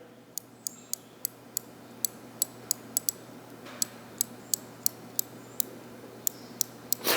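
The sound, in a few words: ratcheting wrench clicking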